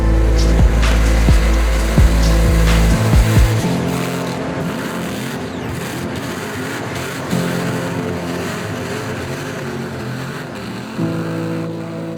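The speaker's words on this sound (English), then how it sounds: "Now let's watch the pro cars go." Pro-class Crown Victoria race cars at the Bristol 1000 race day, engines roaring and revving loudly throughout, a heavy close rumble at first that thins into layered passing engine noise.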